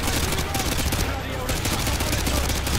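In the Call of Duty Modern Warfare 2 game, a Javelin missile fires amid a dense, continuous blast of loud gunfire and explosive noise that fills the whole scene.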